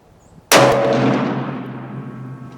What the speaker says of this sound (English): let's do, I believe, one more shot on the bottom right here